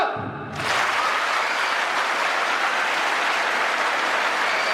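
An audience at a college day address bursts into applause after a brief quiet moment, a dense, loud wash of clapping from many hands that continues steadily to the end.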